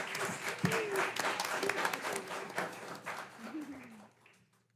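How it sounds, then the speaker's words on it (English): An audience at a school board meeting gives a round of applause for certificate recipients, steady clapping with a few whoops that fades out toward the end. "let's give them all a big round of applause"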